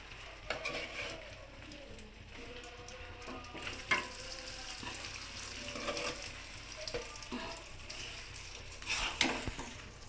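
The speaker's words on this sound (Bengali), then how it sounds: "এখন ভালোভাবে নেড়ে চেড়ে দিব।" Beef kala bhuna frying in mustard oil with fried onions in a pan, a steady close sizzle broken by scraping stirs and occasional clinks of a utensil against the pan.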